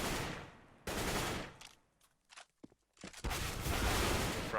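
Gunfire in CS:GO during a competitive match: dense bursts of rapid shots fill the start and end, with a gap of scattered single cracks and footsteps in between, loud and close.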